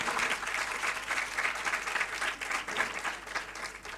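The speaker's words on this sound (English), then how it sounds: "Can you give a big round of applause to all of them?" Steady applause from an audience in a university auditorium at a symposium, a dense wash of clapping held at an even level throughout, fairly distant.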